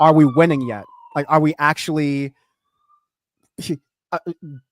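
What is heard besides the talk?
police siren passing outside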